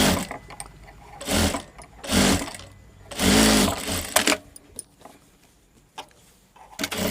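A sewing machine stitches a blouse in several short loud runs of whirring needle action, each lasting about half a second to a second, separated by quieter handling sounds.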